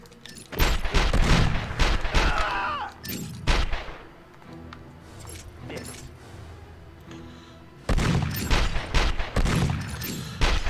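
Shotgun blasts in the PlayStation 2 game 24: The Game, a loud cluster of booming shots in the first seconds, then a quieter stretch and another volley of heavy repeated blasts near the end, with speech mixed in.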